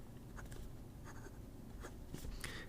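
A Montblanc 146 fountain pen with a 14 karat medium nib glides across paper in faint, soft scratchy strokes, quiet and close, with no talking.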